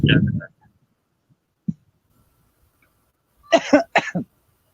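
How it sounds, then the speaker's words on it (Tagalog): A person coughs once, then after a pause gives a rapid cluster of three harsh coughs, close and loud in otherwise quiet surroundings. "Ayan, inuubo na siya."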